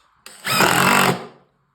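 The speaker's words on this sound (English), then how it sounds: "So I'll drill those." A power drill bores a screw hole for a drawer slide in one close, loud whirring burst of about a second, rising quickly and winding down, with no talk.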